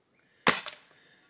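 Diana 350 Magnum air rifle fired at a tile: a single sharp close crack with a quick second impact snap about a fifth of a second later, then a short fading tail in otherwise quiet surroundings.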